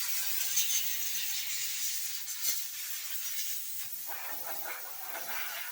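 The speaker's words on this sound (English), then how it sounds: "You can't be fluffing the beard with the air compressor." Compressed air from an air compressor blowing steadily through a nozzle, a continuous broadband hiss close by, used to fluff a beard, with a brief burst near the middle and a rougher stretch toward the end.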